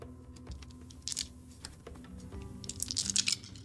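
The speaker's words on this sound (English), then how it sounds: "That sounds like a lot of dice." A big handful of dice rattles and clatters during a tabletop Dungeons & Dragons session, with quick tapping clicks at first and a denser burst of rolling near the end, fairly close and quiet.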